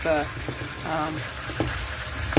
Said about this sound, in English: You're going to place your fish right inside with them